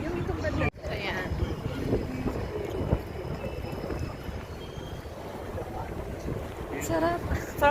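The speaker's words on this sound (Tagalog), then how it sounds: "Sarap ng hangin." Wind rushing past outdoors while travelling in Melbourne, Australia, a steady broadband roar of moving air across the microphone that persists throughout, with a brief dropout near the start.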